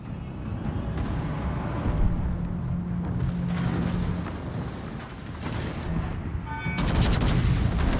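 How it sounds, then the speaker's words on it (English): Battleship guns firing in World of Warships, a Soviet Sinop battleship at tier seven, heard as a dense run of booming naval gunfire with a low rumble throughout and a louder burst near the end. "Should probably shoot the Fubuki."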